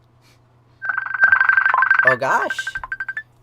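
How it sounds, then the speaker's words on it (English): A phone rings with an incoming call, a bright warbling ringtone pulsing rapidly and loudly for about two and a half seconds, with a brief startled voice partway through. "I'm receiving a phone call."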